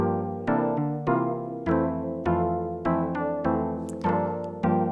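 Lo-fi synth keys with vibrato and a detune LFO play a slow chord progression, each chord struck and sustained with a wavering, slightly warbling pitch, steady and alone.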